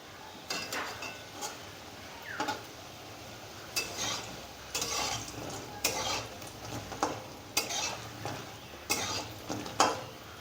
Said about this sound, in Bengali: এখন আমি এইটাকে একটু উল্টে পাল্টে ভালো করে ভেজে নিচ্ছি